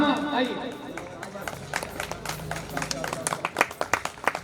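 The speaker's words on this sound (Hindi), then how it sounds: "ताली बजाकर इस्तकबाल कीजिए" A mushaira audience in Dharampuri welcomes a poet with scattered applause, claps building into sharp bursts that rise toward the end while someone speaks over the start.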